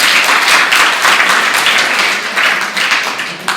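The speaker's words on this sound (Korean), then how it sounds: "우리 하나님께 영광의 박수 올려드립시다" A church congregation at an Easter worship service bursts into loud, enthusiastic applause, close and full, with many hands clapping in a dense roar that rises and falls slightly over several seconds.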